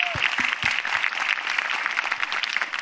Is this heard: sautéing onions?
no